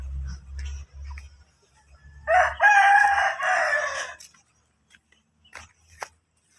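A Rhode Island Red and Basilan crossbreed rooster crows once, loud and close, in a drawn-out call that runs about two seconds. A low hum comes before it, and faint clucks and scraping follow.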